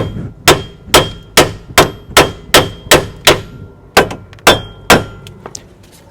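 About a dozen sharp metallic clangs from a brass hammer striking a steel tie rod on a Chevy Cobalt or Pontiac G5, at a steady, brisk rhythm, loud and close.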